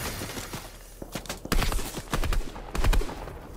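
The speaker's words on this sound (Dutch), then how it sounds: "Al die schoten." Rapid bursts of video game gunfire crackle in quick volleys, several sharp shots clustered together, moderately loud with a busy, cluttered background.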